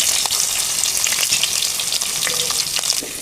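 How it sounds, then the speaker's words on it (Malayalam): Sliced onion and green chillies sizzle in hot oil with mustard seeds, urad dal and chilli flakes for a Kerala cabbage thoran, a loud, steady crackling fry with occasional stirring scrapes and no talk. "അതിലേക്ക് മുറിച്ച് വെച്ചാൽ ഉള്ളിയും പച്ചമുളകും ഇടുക."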